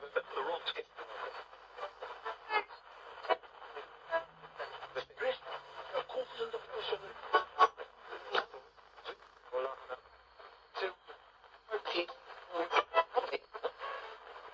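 A spirit box sweeps rapidly through radio stations, giving a continuous stream of choppy static bursts and clipped broadcast fragments that stutter on and off.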